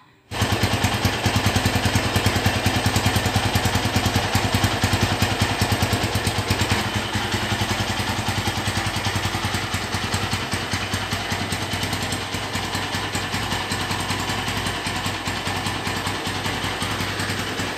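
A red 2011 Honda Tiger Revo motorcycle engine starts and then idles loud and close in a fast, even, chugging pulse that holds steady throughout, with no voices.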